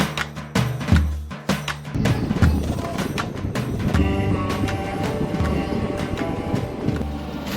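The Nagarsol–Kacheguda Express crosses at Chikalthana railway station at night, its wheels beating a steady, rhythmic clatter over the rails that continues throughout at close range.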